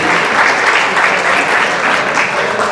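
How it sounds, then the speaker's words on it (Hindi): A crowd at a smartphone launch event breaks into loud, dense applause, a continuous wash of clapping hands without a pause. "जोरदार तालियां बजा दीजिए, please"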